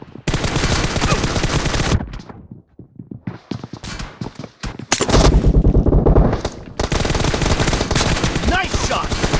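Loud, rapid gunfire bursts in a team-based shooter video game, with sustained automatic fire at the start, a quieter stretch of scattered single shots, then more dense bursts near and continuous to the end.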